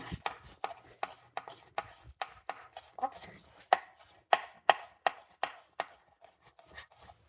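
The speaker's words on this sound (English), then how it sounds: "Let me chop up this tomato. I'm gonna cut it kind of small." A knife chopping a tomato into small pieces on a board, a quick, close series of about twenty crisp thuds in an uneven rhythm, growing sharper midway.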